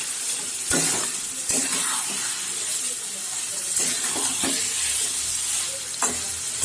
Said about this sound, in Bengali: মাংসের সাথে মশলাটাকে খুব ভালোভাবে মিশিয়ে নেব।